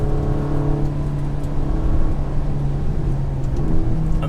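A Ferrari Portofino M with a 620-horsepower engine and 8-speed gearbox, driven on gentle throttle on wet roads, gives a steady loud engine drone with a low hum and slight shifts in pitch throughout.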